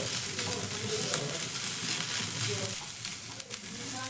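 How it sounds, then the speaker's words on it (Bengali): Ginger and garlic fry with onions in a hot pan, a continuous close sizzle with scraping stirring sounds throughout and no talk. "আদা রসুনটাকে একটু মিশিয়ে নিয়ে নাড়াচাড়া করে ভেজে নেব পেঁয়াজের সঙ্গে"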